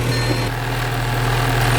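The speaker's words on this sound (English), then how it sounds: "it sounds like it might have an exhaust" A BMW E30 engine drones steadily while driving, with a low, constant exhaust hum and a buzzing mid-range tone holding even throughout, loud and close with no talk.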